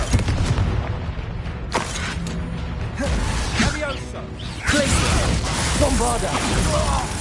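A Confringo fire spell blasts in the Hogwarts Legacy video game, several sharp bursts and booms crackling through a busy battle mix, with voices talking over the fighting.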